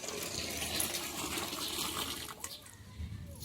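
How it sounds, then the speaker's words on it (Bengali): Water runs from a tap into a container in a steady, soft, hissing stream that thins slightly near the end, heard alone at low level. "জল ভরছি কলে জল পড়ছে"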